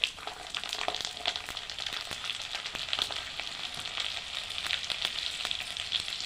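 Peeled garlic cloves and cumin seeds frying in hot oil for a tamarind and red chilli pickle, giving a continuous bright crackling sizzle with small pops, steady and close throughout.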